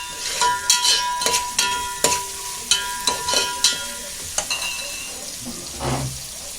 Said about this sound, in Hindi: अभी प्याज को नरम करेंगे।